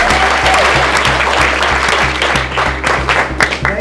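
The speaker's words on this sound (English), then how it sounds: "So applause already to you guys for this." Audience applause at a Startup Weekend event in Orlando, loud close clapping from a crowd, steady for a few seconds and thinning slightly toward the end.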